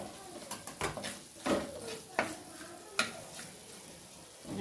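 Green chillies stirred into hot oil in a pan for a Kerala-style fish curry, giving a steady low sizzle with a few sharp scrapes and clinks of a spoon against the pan.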